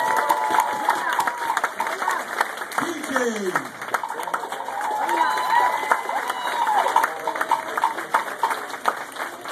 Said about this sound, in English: How about a hand applause for Jana?